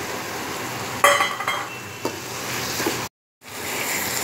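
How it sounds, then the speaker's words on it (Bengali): Pre-fried potatoes go into a hot pan of Bengali dimer jhol, the pan crackling and sizzling as a spoon scrapes and clinks through them in a few short bursts before a brief silence. "ভেজে রাখা আলুটা দিয়ে দেব।"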